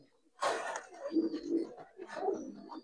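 High-flying Giribaz pigeons (Budapest, Damascene and silver) at a farm give a few low, rolling coos close by. They are fairly faint and come in two short bursts after a brief quiet start.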